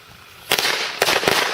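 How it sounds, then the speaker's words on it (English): Fireworks bursting in two quick volleys, a sharp crackling cluster about midway and another near the end, loud and close with crackle trailing between, no voices. "It's just normal fireworks."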